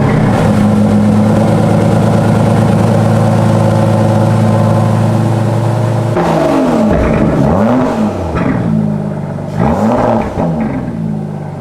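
New Aston Martin sports car engine revving through quad exhaust pipes, a loud steady drone giving way to repeated rising and falling revs.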